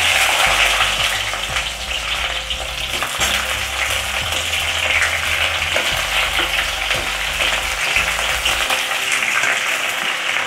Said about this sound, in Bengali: তেলটা আমার গরম হয়ে গেছে, এতে আমি পেঁয়াজ কুচিটা দিয়ে দিচ্ছি।